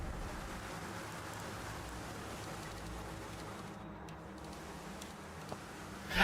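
Steady rain hiss fills the space at an even level throughout, with a couple of faint ticks near the end and no speech.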